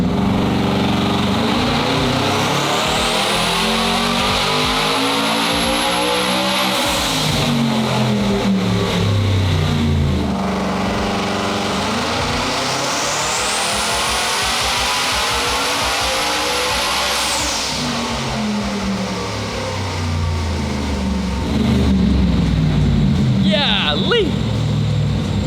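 A twin-turbo Coyote V8 in a 4WD Ford F-150 roars through two long dyno pulls, revs climbing steadily to a high whining peak before dropping off, very loud, with a turbo whistle and excited voices around it.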